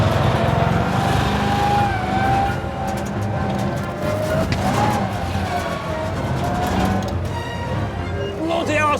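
A restored armoured reconnaissance vehicle from the First World War era idles and drives with a steady, loud engine drone that rises and falls throughout, with people talking over it nearby.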